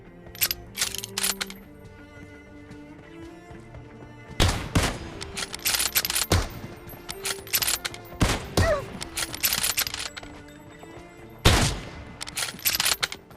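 Gunfire in the battle-royale game PUBG: bursts of shots and sharp cracks come in clusters, loud and close, with game effects and clattering sounds between volleys.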